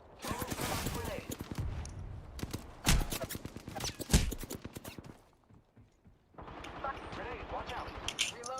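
Rapid bursts of video-game gunfire crackle loudly through a battle royale match, firing in dense clusters with short pauses, while players talk over the shooting.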